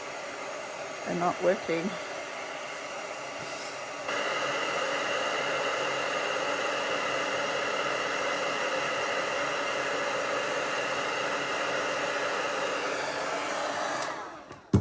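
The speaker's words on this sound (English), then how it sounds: "I'm using my old heat tool." A crafter's old embossing heat tool blows hot air in a steady, loud whooshing hiss for about ten seconds, starting after a few brief spoken words and cutting off near the end.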